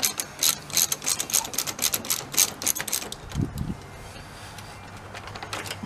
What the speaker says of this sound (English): I want to unhook your battery, which in my case is an 8mm socket.